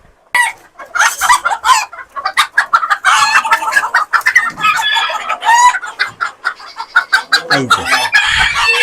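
Silkie chickens and roosters on a farm keep up loud, close clucking and repeated crowing, calls overlapping in quick bursts with barely a gap.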